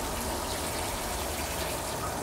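Water pours steadily onto freshly sown seeds in soil in a container garden, a continuous close gushing splash with no pause.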